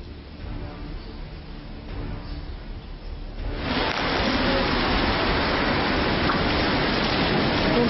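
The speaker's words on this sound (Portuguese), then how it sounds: "Chuvão." Heavy rain with hail pours down in the Distrito Federal, a steady hiss that starts moderate and suddenly intensifies into a loud, dense roar about halfway through, continuing unbroken.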